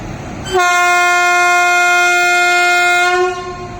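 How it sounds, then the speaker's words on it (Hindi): The Bikaner–Coimbatore superfast train gives its second horn as it departs, a single loud, steady multi-tone blast held close by for about two and a half seconds before fading. "सेकेंड हॉकिंग के साथ गाड़ी चल पड़ी है एकदम राइट टाइम।"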